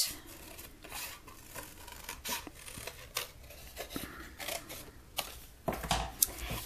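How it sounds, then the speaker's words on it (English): Scissors snipping through paper to cut apart hand-drawn hill shapes for a scrapbook page, a series of close, crisp cutting and rubbing sounds coming at irregular intervals, with no talking. "I used my scissors to cut those apart."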